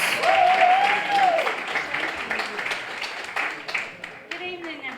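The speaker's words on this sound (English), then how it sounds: "I just want you to start clapping right now" Audience applause at a corporate fight night press conference, a dense wash of clapping heard close at the start that thins out over five seconds while a voice is heard over it.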